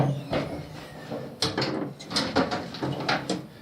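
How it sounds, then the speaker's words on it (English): Drawers sliding open and shut on a Harbor Freight 26-inch steel tool chest that wobbles, giving a series of rattling metal slides and clunks close by, with no talking. "Here you can see what happens now when I open drawers."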